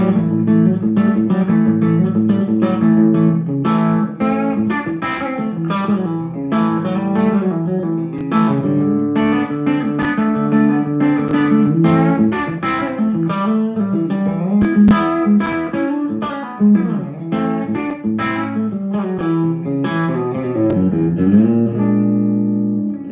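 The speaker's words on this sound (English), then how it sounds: "I just use for spacey sounds. So like right now I got a reverb and a slapback on it." Electric guitar run through an HX Stomp XL set with reverb and slapback echo for a spacey sound, playing a continuous melodic line of plucked notes with repeating echoes and a lingering wash, no talking.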